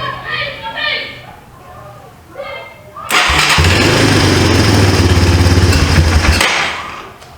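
A Yamaha 250 Timberwolf ATV engine catches after a few seconds of talk, then idles loud and close with an uneven, fluttering roughness before cutting off.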